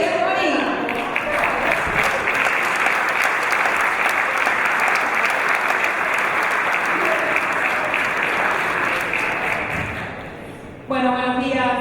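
Sustained audience applause at the start of a panel talk on tourism as a development tool, dense steady clapping for about ten seconds before it fades and a voice begins.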